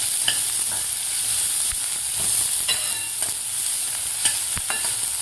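Finely chopped onion sautéing in a pan over medium heat for a bitter gourd dish, a steady close sizzle and hiss with occasional stirring scrapes and clinks throughout.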